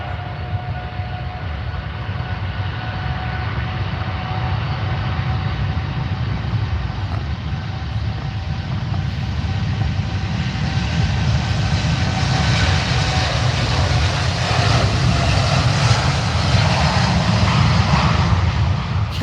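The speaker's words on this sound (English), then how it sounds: "in the roll, starting its roll now, the TUI Dreamliner off to Montego Bay" A TUI Boeing 787 Dreamliner begins its takeoff roll at Manchester Airport, a steady, loud engine roar with a rumbling low end that swells and brightens as power builds, with no talking.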